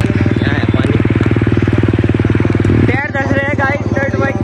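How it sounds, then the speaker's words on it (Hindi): Dirt bike engine running close and loud while riding through water in the rain, a steady pulsing throb that shifts pitch near the end as a voice briefly joins. "मज़ा आता है भाई पानी में चलाने में डर्ट बाइक को ही"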